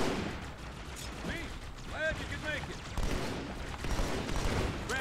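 Halo 2 Anniversary gunfire crackles in quick bursts through a dense, loud game mix, with swooping electronic tones and rumbling effects around the shots.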